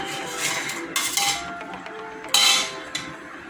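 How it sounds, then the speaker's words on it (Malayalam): Fish dropped into a cooking pot for parava meen curry, giving a few light clinks and knocks of metal and crockery, fairly close and quiet, with no talk. "ആദ്യം ചട്ടിയിൽ മീനിടും"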